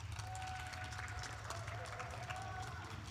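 Audience applause at a high school graduation fills a large hall with dense, continuous clapping and crowd noise, steady throughout with voices mixed into the wash.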